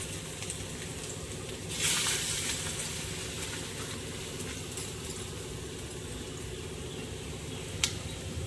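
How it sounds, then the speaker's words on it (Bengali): Five-leafy-greens fritters, made with onion, frying one by one in hot oil, giving a steady even sizzle throughout with a brief louder crackle as another piece goes in. "আমি পাঁচ শাকের বড়াটা ভেজে নিচ্ছি একটা একটা করে"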